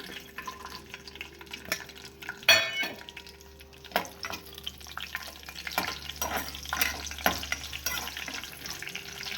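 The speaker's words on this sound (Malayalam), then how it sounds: "ഇനി നമുക്ക് കശുവണ്ടി വറുത്തെടുക്കാം" A pan of cashews sizzles steadily as they fry while a utensil scrapes and clinks now and then, with one louder clatter early on; nobody speaks.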